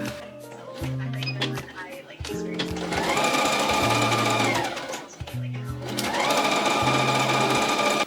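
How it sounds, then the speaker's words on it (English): A sewing machine stitches long fabric strips end to end for a beginner sewing project, its motor buzzing in steady bursts with short pauses between seams, close and fairly loud, with no talk over it. "We're gonna align the ends and just sew here and continue doing this until we have this long stripe."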